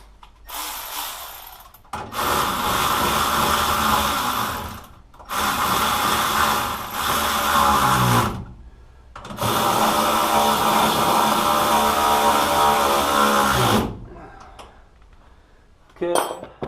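Bolts on an upper ball joint of a 1973 Ford Mustang being tightened with a power tool, in three long loud bursts of metallic rattling whir separated by short pauses, close by.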